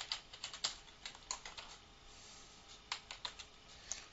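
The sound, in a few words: typing a file name on a computer keyboard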